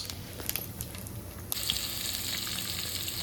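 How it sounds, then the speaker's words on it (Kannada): Onion and green chillies fry in hot oil for raw mango chitranna, a soft steady sizzle with light crackles that swells after a new addition midway. "ಆಮೇಲೆ ಈರುಳ್ಳಿ ಹಾಕಿದ್ದೇನೆ ರೀ, ಮತ್ತು ಹಸಿಮೆಣ್ಸಿನ್ಕಾಯಿ ಹಾಕ್ಕೊಂಡೆ"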